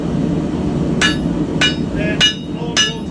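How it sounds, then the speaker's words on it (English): Hammer forging hot wrought iron while fitting an iron guard onto a knife: four sharp, ringing metal strikes at an even pace over a steady low background hum. "you can hammer it until it's white and then cold"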